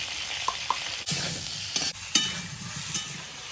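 Papaya and potato frying in mustard oil with salt and turmeric, a close, steady sizzle broken by spatula scrapes and a few sharp clicks against the pan.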